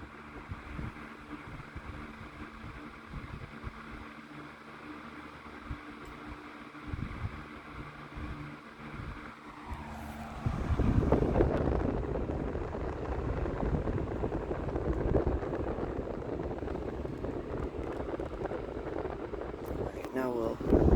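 A National (Matsushita) Panasonic Panacool 12-inch oscillating desk fan, model F-30AM, running on high speed: a steady whooshing rush of moving air that swells noticeably about halfway through and then holds loud and constant.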